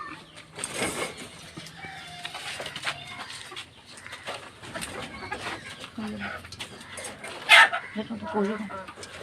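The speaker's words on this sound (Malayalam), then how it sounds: "കോഴികളെ കണ്ടോ?" Chickens cluck and squawk intermittently nearby at a home in Kerala while a person talks over them at feeding time, with a sharper bird call rising briefly near the end.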